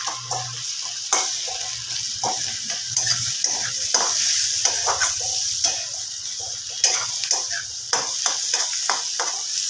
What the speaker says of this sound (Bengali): একটুখানি ভাজা ভাজা করে নেবো